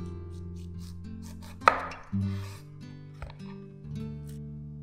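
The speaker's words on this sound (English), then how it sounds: "Cut each slice in half." A knife chops pineapple on a cutting board, with a sharp close knock and a few softer cuts against a steady background hum.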